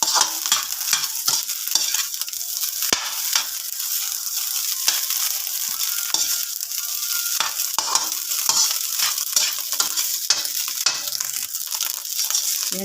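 Breakfast food being stirred and fried in a pan: steady loud sizzling with repeated scraping and clattering strokes throughout, close by and continuous.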